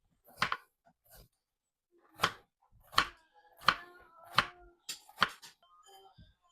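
Knife chopping onion on a board, several sharp, distinct cuts at an irregular pace with brief gaps between them, close and clear against quiet.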